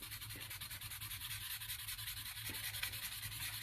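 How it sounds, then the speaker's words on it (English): Soft, continuous scratchy rubbing as fine sandpaper is drawn lightly back and forth across a printed photo, close by with no voices. "I'm just going to really lightly sand across the top of this"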